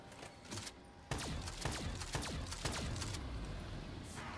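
A rapid-firing gun in the Call of Duty Zombies map Der Eisendrachen unloads a quick run of sharp, crackling shots. The shots fire in close succession over a steady background din, fairly faint overall.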